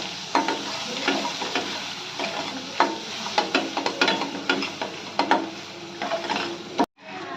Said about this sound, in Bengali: দিয়ে ভালো করে আমি কষে নেব।